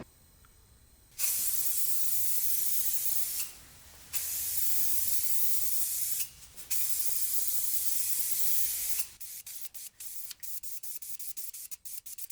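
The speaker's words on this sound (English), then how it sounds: "It's spraying a lot better this time." A spray gun lays primer on a BMW E30 body inside a plastic paint booth, firing three long, loud hissing bursts separated by short pauses, followed by softer intermittent clicks and taps.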